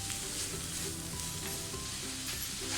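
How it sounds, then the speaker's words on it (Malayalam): Curry ingredients are sautéed with salt in a pan, giving a steady close sizzle of frying with faint stirring scrapes throughout. "ഇനി നമുക്ക് ഇതിനാവശ്യമായിട്ടുള്ള ഉപ്പ് ഇട്ട് കൊടുക്കാം. എന്നിട്ട് നന്നായിട്ട് അങ്ങോട്ട് വഴറ്റി കൊടുക്കാം."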